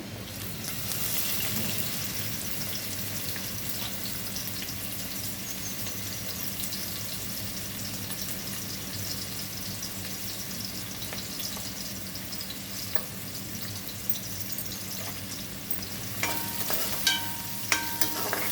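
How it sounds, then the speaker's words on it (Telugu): Sliced onions sizzle and fry in a pan with fenugreek seeds for a stuffed ivy gourd curry, a steady moderate crackle with occasional stirring clinks toward the end, no voices. "మెంతులు అయితే ఫ్రై అయ్యాయండి ఇప్పుడైతే ఆనియన్స్ వేసుకుందాం"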